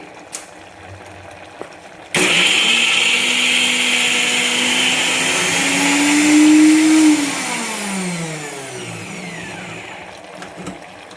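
A mixer grinder whirs loudly into life, its motor pitch rising then dropping as it churns coconut into a thick, fine paste, then cuts off abruptly.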